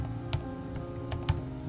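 Computer keyboard keys tapped at a steady, unhurried pace while filling in an online form, close and clear, with a couple of firmer clicks standing out and no talking.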